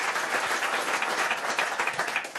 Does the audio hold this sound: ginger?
no